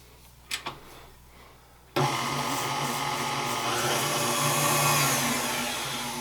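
An electric mixer whisks room-temperature butter and a cup of sugar, starting with a couple of faint clicks, then a steady loud whirring hum that runs unbroken for several seconds.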